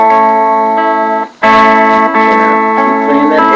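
An acoustic guitar is picked in a forward roll pattern, strings plucked in quick rising sequence, ringing out loud and close with a brief dip before the pattern resumes; no talking.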